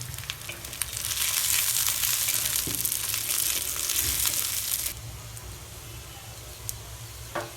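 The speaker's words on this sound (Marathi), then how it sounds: "कांदा आणि लसण असा चांगला मस्तपैकी परतलाय" Onion and garlic cloves fry loudly in a hot pan for Kharda chicken, a dense close sizzle that drops to a softer steady crackle partway through, with occasional stirring clicks.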